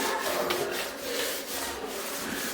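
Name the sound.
wiping tile surface with a rag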